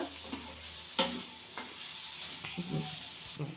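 Chicken liver fry with onions being stirred in a pan, with a soft steady sizzle and a few scraping clacks of the spoon against the pan.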